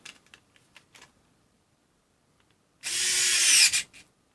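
A TONE CHD221S USB-charged electric screwdriver runs for under a second while tightening at torque setting 8 to 9, a close whirring buzz that stops abruptly, after a few faint clicks of adjustment.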